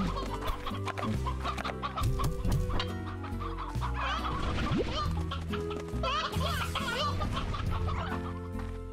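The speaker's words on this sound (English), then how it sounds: "Chickens in here." Chickens cluck repeatedly in the Slime Rancher video game, a busy layered chorus of clucks and squawks mixed with game sounds and a faint voice, steady and close throughout.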